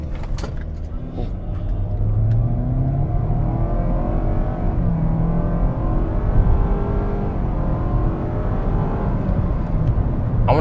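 A 2020 Nissan Altima doing a brake-torque launch and accelerating hard, heard as a loud, steady engine drone with rising pitch sweeps from the cabin for about ten seconds, with no voices.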